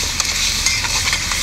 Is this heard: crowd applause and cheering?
no